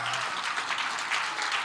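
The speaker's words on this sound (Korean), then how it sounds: "이거는 뭐 박수 칠 일은 아니고요." Brief, fairly faint burst of audience clapping in a studio during a Korean legal interview, a dense patter with no one speaking over it.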